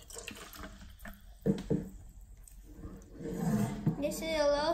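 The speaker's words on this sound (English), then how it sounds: "Let's pour some water in." Kopu sparkling water from New Zealand poured into a small cup for a pH test, a fizzing liquid pour that builds over the last seconds, with speech interrupting early on.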